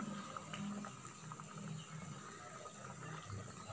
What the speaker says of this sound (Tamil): பாருங்கள் மசாலா நல்லா கொதிக்குது.